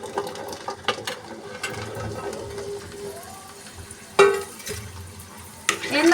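Indian gooseberries (amla) are added to hot oil for pickle, with scattered small clicks and light crackling, then two louder bursts of clattering sizzle, close at hand.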